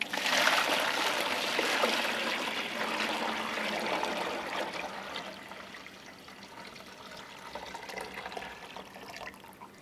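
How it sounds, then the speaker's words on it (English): Water pours steadily into a cooler, a hissing splash that slowly softens and thins out over several seconds. "step 2 will involve putting the water inside the cooler"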